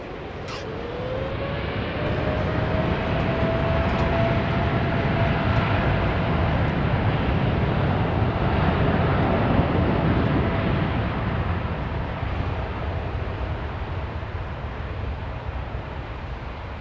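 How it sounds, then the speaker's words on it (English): Aircraft engine noise at London Heathrow Airport, a steady broad roar holding for the whole stretch with a slowly shifting tonal whine, fairly near and loud, with no voices. "Gordon Freeman, lovely engine noise."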